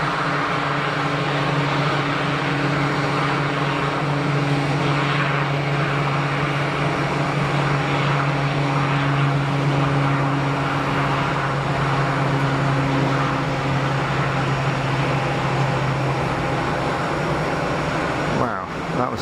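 An airliner takes off at Geneva Airport, heard from a crowded terrace as a steady jet roar with a sustained engine drone and whine, loud and continuous throughout.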